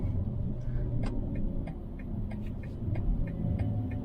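A Mercedes car passes close by, a steady low rumble and throb with faint ticking over about four seconds, no voices.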